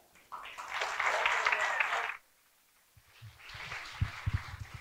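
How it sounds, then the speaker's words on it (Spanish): An audience claps for a school student from Escuela de Aldea El Rosario after a patriotic recital in Guatemala: a dense burst of applause for about two seconds, a pause, then a second, looser round of clapping. "Fuertes los aplausos para el estudiante de la Escuela de Aldea El Rosario."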